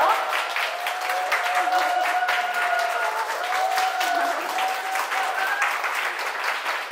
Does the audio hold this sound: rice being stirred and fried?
no